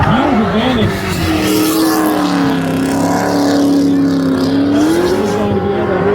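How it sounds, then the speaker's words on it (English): A 2024 Tesla Model 3 Performance launches off the drag start against a drift car at Pikes Peak International Raceway, with a loud, sustained rising drivetrain roar and tire noise that stays close and dominant throughout. "That Tesla was such a good launch compared to that drift car."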